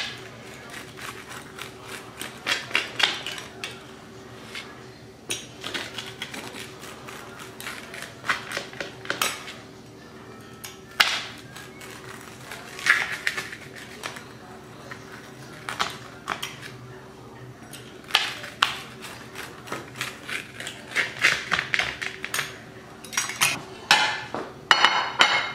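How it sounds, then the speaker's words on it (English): Steak and cheese pizza being sliced at home, with repeated clinks, scrapes and clatters of a cutter or knife against a pan, irregular bursts close by with no talking. "So now I'll slice it up."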